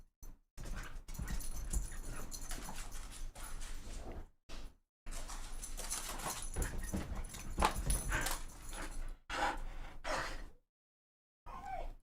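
A dog whimpers and whines at an open door, faint soft whimpers and breathy sounds in bursts with short silent gaps, nearby and quiet.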